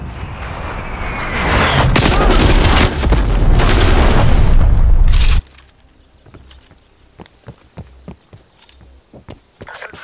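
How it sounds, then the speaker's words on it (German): Loud artillery explosions from an enemy artillery strike in Call of Duty Black Ops Cold War multiplayer, a dense roaring barrage for about five seconds that cuts off abruptly, followed by quieter scattered thuds and footsteps. "Artilleriebeschuss."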